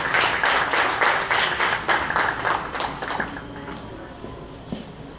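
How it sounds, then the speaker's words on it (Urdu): Audience applause at a Pakistani book review event, a dense wash of clapping from many hands that is strongest at first and gradually thins and fades over several seconds, with no talk over it. "تالیاں ابھی سے بج سکتی ہیں۔"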